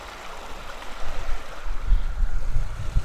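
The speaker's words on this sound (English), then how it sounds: "Here's Waller Brook." Waller Brook, a moorland stream on Dartmoor, flows with a continuous rushing, bubbling wash of water that swells after the first second, mixed with low wind rumble and nearby handling bumps.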